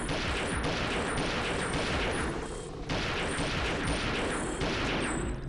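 Dense, continuous gunfire from the video game Perfect Dark while shooting Skedar enemies aboard an attack ship, loud rapid bursts filling the whole stretch with barely a pause.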